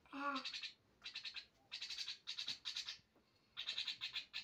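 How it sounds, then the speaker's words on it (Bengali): A bird calls in a series of bright, repeated chirping bursts, close and clear, with a short human voice near the start. "পাখির গলার ডাকের ভিডিও।"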